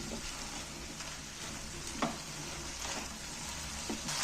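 Spice paste of ginger, green chili, tomato, nuts and yogurt frying in a pan, a continuous close sizzle with occasional stirring scrapes and taps, no speech.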